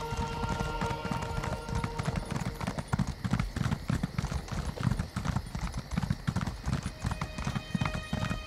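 Horse hooves in Elder Scrolls Online, steady rhythmic clip-clop of a ridden horse at a brisk gait, close and continuous throughout, with faint game ambience underneath.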